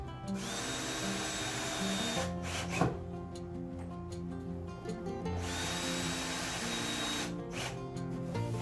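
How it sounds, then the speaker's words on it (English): A cordless power drill drives a screw into a small piece of cherry wood on a CNC table spoil board, whirring steadily in two long bursts separated by a brief pause, close and fairly loud. "I'll screw one of them to the spoil board of the CNC table"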